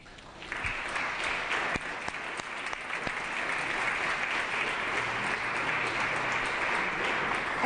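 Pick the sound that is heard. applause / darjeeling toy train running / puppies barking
applause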